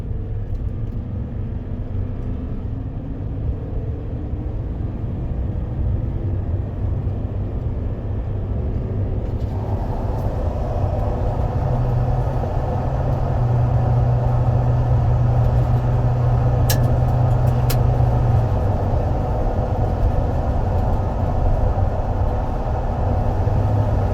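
Steady low road rumble and engine drone fill the cab of a vehicle cruising at 45 mph with a cab-to-topper boot, the noise growing slightly louder and broader partway through, with faint brief ticks near the end.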